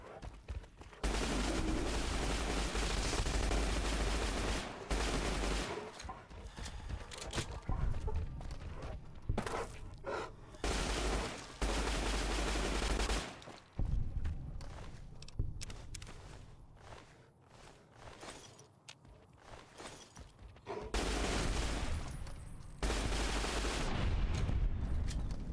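Submachine gun fire in the game Fallout: New Vegas: several loud rapid bursts, each lasting a few seconds, separated by quieter stretches with footsteps and ambient noise.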